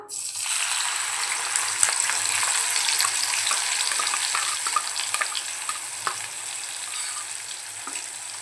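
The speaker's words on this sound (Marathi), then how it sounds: "आता वाटून घेतलेला मसाला घालून घेऊया" Ground masala paste frying in hot oil in a kadai, a steady dense sizzle with crackling pops and occasional stirring scrapes, close and continuous throughout.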